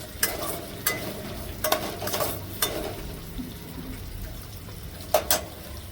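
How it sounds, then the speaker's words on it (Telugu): Vegetables for a cauliflower curry lightly frying and being stirred in a pan, with a soft steady sizzle punctuated by several sharp scraping stirs close by. "ఇవన్నీ కొంచెం లైట్గా ఫ్రై చేసుకుందామండి"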